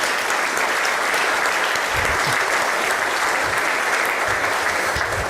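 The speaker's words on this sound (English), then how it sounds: "Let's give them a big round of applause, ladies and gentlemen." An evening audience at an entrepreneurs' event applauds steadily, a thick wash of many clapping hands holding at an even, loud level from start to finish.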